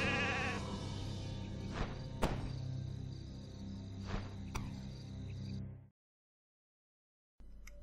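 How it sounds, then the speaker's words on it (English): In the Warcraft 3 video game, a sorceress turned into a sheep lets out a couple of bleats over a steady background of chirping crickets and game ambience. The scene cuts to silence near the end before a short burst of sound returns. "Did they just transform a sorceress into a sheep?"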